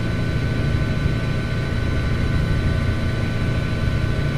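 A simulated helicopter in Flight Simulator X, with Hovercontrol and FSUIPC, drones with a loud, steady engine and rotor roar as the throttle is opened, a dense continuous rumble that holds level without a break.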